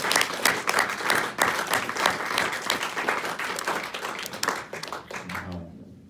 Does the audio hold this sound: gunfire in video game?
no